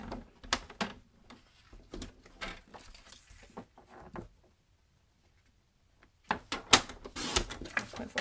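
White card paper being cut by hand for a card background, a run of crisp snipping and crunching bursts at an irregular rhythm, then a brief pause before a denser, louder cluster of cuts.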